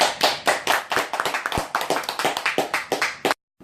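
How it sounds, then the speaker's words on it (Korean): A church congregation claps in praise after a closing prayer, a dense burst of hand claps, fairly close and steady, lasting about three seconds before stopping abruptly. "영광의 박수 올렸습니다."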